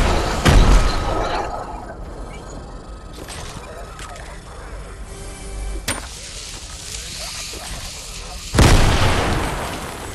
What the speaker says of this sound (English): Why are you throwing grenades?